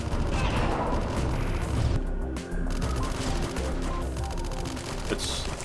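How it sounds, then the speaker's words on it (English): Rapid bursts of gunfire in the video game AM2R crackle continuously over a dense, rumbling background, loud and sustained throughout. "Now you hear gunshots."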